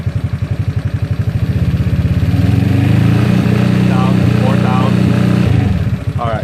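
A GY6 scooter engine runs near 4,000 RPM, a loud close rhythmic putter that revs up and holds steady before easing off, with an excited voice over it.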